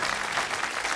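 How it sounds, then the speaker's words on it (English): A studio audience at a Bullseye game show applauds, a brief dense burst of clapping at steady volume. "Give them a nice round of applause."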